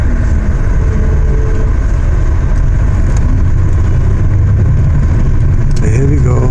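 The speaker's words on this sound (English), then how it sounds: "We're leaving the airport. In a taxi." A taxi pulls away from an airport with a steady, close engine and road rumble heard from inside the car. The drone runs without a break, with a brief rising whine near the end and muffled voices underneath.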